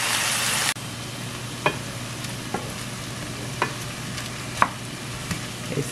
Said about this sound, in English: I'm gonna dump the rice and I'm gonna cook it for 5 minutes, stirring occasionally